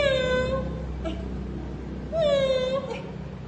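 A kitten gives two drawn-out, wavering meows about two seconds apart, clear and fairly loud over a steady background hum.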